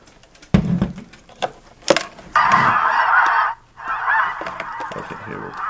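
Goose calls play from a Goosegetter electronic caller speaker: a few short honks, then two long runs of loud, continuous honking and clucking with a brief gap between them, and no talk over them.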